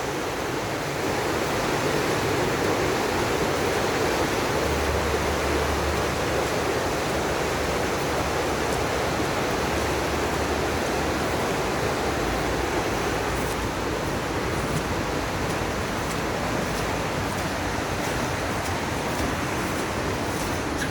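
Floodwater of the River Ebro surges at full flow in a continuous, dense roar, near and unbroken, with a faint low rumble briefly underneath and no speech.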